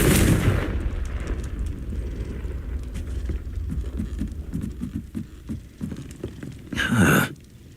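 A Confringo blasting spell going off in Hogwarts Legacy: a heavy rumbling blast opens, then scattered thuds and crackles follow, and a sharp burst lands near the end.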